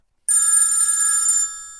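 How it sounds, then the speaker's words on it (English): A telephone bell rings loud and close in one sustained bright burst of about a second, then stops abruptly and leaves a fading tail. "your phone is ringing"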